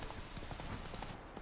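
Horse hooves of Geralt's horse Roach in The Witcher 3, a faint, steady clip-clop of walking steps heard briefly in a short stretch of game ambience.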